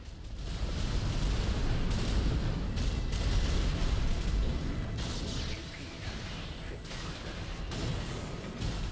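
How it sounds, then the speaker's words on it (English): Missile strikes an enemy mech during a player-versus-player Armored Core 6 match, buried in a dense, continuous roar of booming combat noise and mechanical rumble lasting the whole stretch, with no single impact standing apart. "My missile just came by and clipped him."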